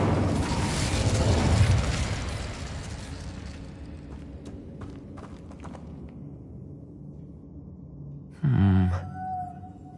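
In Hogwarts Legacy, an Incendio fire spell erupts with a strong, roaring burst that fades over several seconds. A shorter, sharp flare of sound follows near the end.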